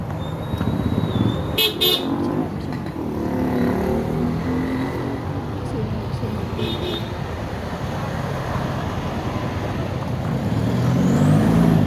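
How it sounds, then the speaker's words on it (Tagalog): Car horns honk briefly a few times amid steady traffic rumble at a school alumni homecoming in Maria Aurora, with engines and street noise filling the background throughout. "Busina, busina, busina."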